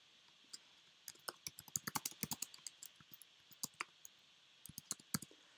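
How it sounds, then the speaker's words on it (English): Computer keyboard keys typed at a quick, uneven pace, with a run of close crisp clicks, a short pause, then a few more taps, quiet and alone while entering a chart axis title in Google Sheets. "and I just type it in."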